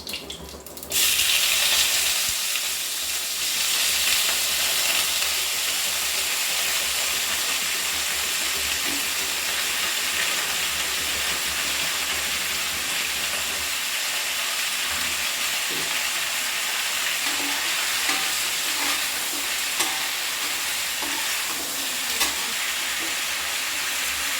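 Cut potatoes frying with garlic in hot oil in a pan, a loud, continuous sizzling hiss that starts abruptly and holds steady for over twenty seconds, close and with no talk.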